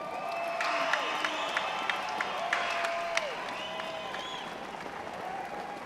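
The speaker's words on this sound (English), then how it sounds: "let's give a round of applause" At an Army versus Marines heroes ceremony, a large crowd applauds with steady clapping, mixed with cheers and whistles that rise and fall over several seconds.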